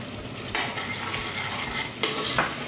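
Ground cashew and almond paste fries in a pot, giving a close, steady sizzle with two sharp scraping stirs about a second and a half apart, and no voices.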